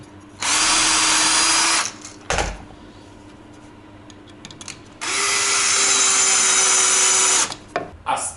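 A power drill bores a pilot hole into wood for a screw in a workshop, two loud sustained whirring bursts separated by a short thump and a pause.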